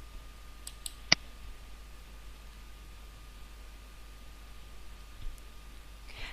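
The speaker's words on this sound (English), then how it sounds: "I'm going to go ahead and click Create" A single crisp computer mouse click lands about a second in, short and close, followed by near silence with faint background hiss.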